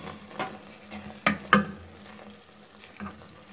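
Turnip bhujia being stirred as it fries in a pan with ground garam masala, giving a few scattered scraping clacks of the spoon over a low, steady sizzle, with no talking.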